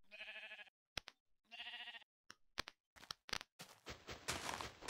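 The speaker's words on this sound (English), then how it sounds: "now I can hear more sheep" Sheep in a video game bleat in several separate wavering calls, fairly close, followed by scattered thumps and a burst of noisy rustling.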